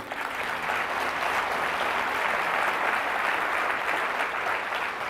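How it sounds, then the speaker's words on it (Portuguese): Steady, dense applause from a church congregation, continuous and loud for several seconds with no talking. "Você pode dar um aplauso a Ele?"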